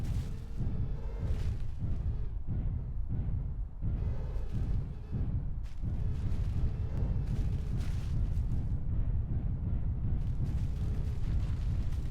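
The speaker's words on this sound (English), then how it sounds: "Incoming missiles." Incoming missiles explode in the mech combat game MechWarrior Living Legends, a cluster of deep booming blasts over a constant low rumble, with the bursts thinning out after the first few seconds.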